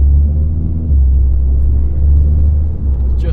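A 400 bhp Audi S3 8V with a 2-litre TFSI engine and custom valved exhaust idles nearby, a deep, steady burbling rumble that swells slightly, loud and close with no voices.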